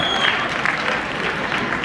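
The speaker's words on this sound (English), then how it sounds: "Round of applause for these people." A seminar audience at a business leadership talk claps as a group for a couple of seconds, a steady dense patter of many hands throughout, with some voices mixed in.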